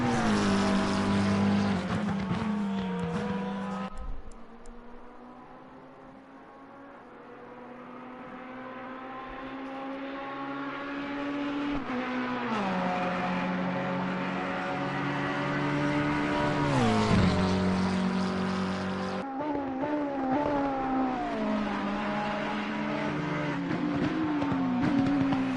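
GT3 race cars lapping Mount Panorama in a sim racing game, a Porsche among them, with engines droning in steady harmonic tones that rise through revs and drop at gear shifts, loud and continuous throughout.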